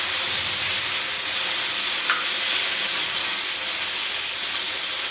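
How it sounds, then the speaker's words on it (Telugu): Rava dosa batter sizzling on a hot dosa pan, a dense, steady hiss of frying close by, loud and continuous with no one speaking. "ఇప్పుడు దీనిపైన దోశని ఈ విధంగా వేసుకోవాలి"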